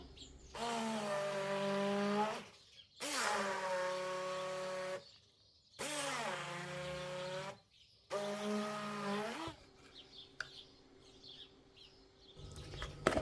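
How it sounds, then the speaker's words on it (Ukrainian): A handheld immersion blender purées a cheesecake mixture, whirring loudly in four separate bursts, its pitch dipping and rising as it works, with short quiet gaps and a faint rattle afterward. "Перебиваю погружним блендером."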